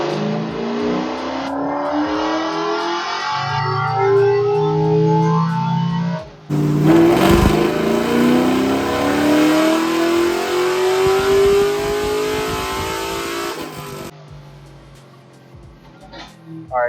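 An LS3-powered Squarebody truck revs hard through a 6,700 RPM dyno pull, the engine note climbing steadily to a loud, close roar before cutting off, with brief voices at the start.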